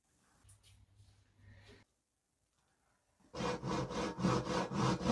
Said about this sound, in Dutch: Zaag op je bureau.